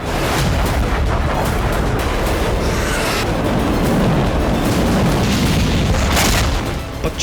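Russian KH-101 missile strike on a power plant in Dnipro, Ukraine: a continuous loud, dense roar of blasts and rumbling booms filling the whole span, with no clear breaks.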